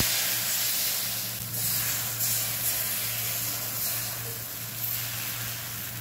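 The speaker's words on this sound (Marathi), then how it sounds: "डोसा टाकताना गॅस मोठा ठेवायचा, म्हणजे जाळी छान पडते।" Thin rice-flour neer dosa batter hisses steadily on a hot pan over a high flame, a continuous even sizzle with no talking and only slight swells in level.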